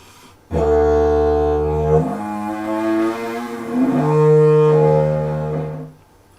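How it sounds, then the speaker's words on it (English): A didgeridoo played with a lip trill gives a deep droning horn tone with buzzing overtones that holds, then steps to new pitches in several sustained notes, loud and close, ending after about six seconds. "if we apply the lip trill to the didgeridoo, it'll sound like this"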